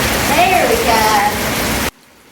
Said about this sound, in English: the rain is calming down